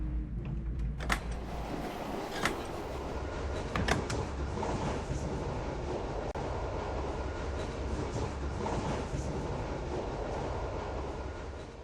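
A small train of only a locomotive and a baggage car rolls along the rails in The Last Express video game, giving a continuous rumbling clatter with a few sharp metallic knocks early on.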